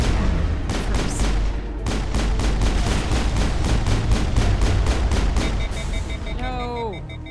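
Sustained bursts of loud rapid gunfire in Mass Effect 1 during a boss fight, evenly spaced shots hammering for several seconds before tapering off into a descending electronic tone, with a player talking underneath.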